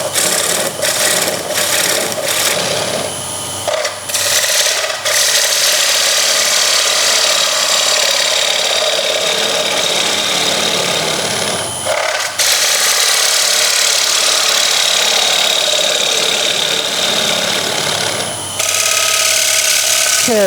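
A wood lathe takes a final finishing cut on a bowl held on a vacuum chuck. The tool rasps and scrapes loudly and continuously, with brief dips and pauses between passes and a faint hum underneath.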